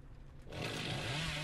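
Chainsaw revving in the horror video game Dead by Daylight, a sudden harsh buzzing roar that kicks in after a quiet moment and holds steady and loud to the end.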